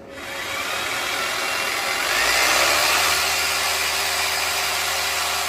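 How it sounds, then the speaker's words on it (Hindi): A Bosch 1050-watt electric drill runs continuously, its motor whining up to speed and then holding a steady, loud, close-up buzz with no pauses. "मैं मजीद इसके ऊपर इस ड्रिल मशीन को चलाता हूँ"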